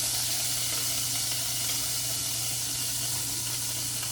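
Steak sizzles in a hot pan, a dense, loud, unbroken hiss of frying fat running steadily throughout, close up and with no voices.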